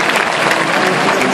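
Audience applause fills a Turkish science olympiad award ceremony as a silver medalist is called to the stage, a dense, steady wash of clapping with faint crowd noise throughout.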